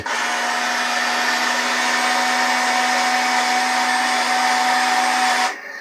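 A steady, loud electric motor whine from a Double E E591 RC Volvo A40G articulated hauler raising its dump tray runs continuously for several seconds, then cuts off abruptly near the end.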